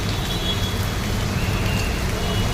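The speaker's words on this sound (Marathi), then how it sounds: "मुंबईमध्ये मुसळधार पाऊस सुरू आहे" Heavy monsoon rain pours in Mumbai, a dense, loud and unbroken hiss of drops on surfaces with a low rumble underneath and no voices.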